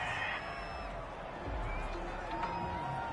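A home crowd in a Ravens vs. Jets football video game roars in a steady, dense wash of noise, loud and continuous under the game's broadcast commentary.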